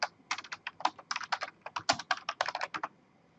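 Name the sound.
typing a command on a computer keyboard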